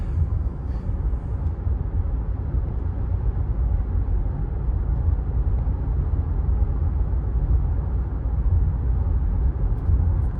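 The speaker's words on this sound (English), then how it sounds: "the road noise and wind noise that you hear from a video is always louder on camera than it actually is in person" Steady low road rumble and wind rush fill the cabin of a 2018 Lexus RX350 at speed, a constant broadband drone with no voices.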